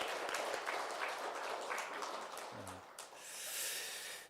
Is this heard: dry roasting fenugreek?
no